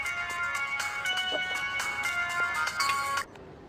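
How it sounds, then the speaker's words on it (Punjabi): A telephone ringtone plays while a call is being placed, a bright electronic melody that repeats steadily for about three seconds and then cuts off abruptly into near silence. "ਇੱਕ ਕੰਮ ਕਰ, ਕਿੰਦਰ ਨੂੰ ਫੋਨ ਲਾ।"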